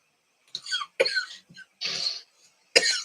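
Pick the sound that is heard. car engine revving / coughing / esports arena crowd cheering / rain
coughing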